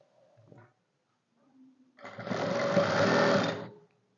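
A sewing machine stitches the edge of a garment sleeve in one steady, fairly loud burst lasting under two seconds, preceded by faint brief handling noises.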